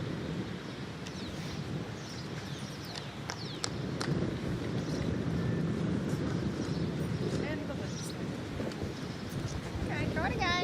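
Wind gusts outdoors at a women's pairs lawn bowls match at the 2012 New Zealand Open, a constant low roaring rush of air buffeting the microphone throughout, with occasional faint clicks and knocks.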